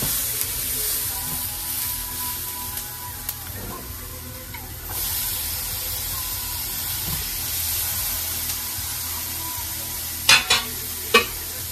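Tomatoes sautéing in a pan, a steady close sizzle and hiss with a few sharp utensil clicks near the end.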